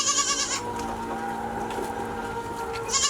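A Rajanpuri goat at a goat sale lets out a drawn-out, wavering bleat that rises again near the end, heard clearly at moderate distance over a low murmur of background activity.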